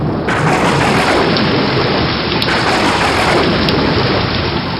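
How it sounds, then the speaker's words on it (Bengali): Steady heavy rain pours down alone, a dense continuous wash with a low rumble of thunder rolling underneath throughout. "যা, বৃষ্টি নেমে গেল।"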